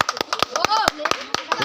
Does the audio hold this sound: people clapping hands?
yes